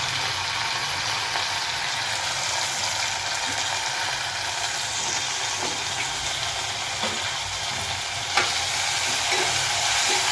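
Dry onion, tomato, bay leaf, dried chilli and cloves fry in hot oil for a rice tempering, a steady dense sizzle running throughout with occasional faint stirring clicks, fairly close and unbroken.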